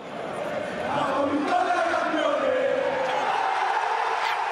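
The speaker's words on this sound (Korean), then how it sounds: "주심의 휘슬과 함께 나폴리의 리그 우승이 확정된 순간 팬들의 환호가 경기장을 뒤흔듭니다" Football fans roaring in a stadium as Napoli clinch the Italian league title, a dense sustained crowd cheer with chanting voices, loud and continuous.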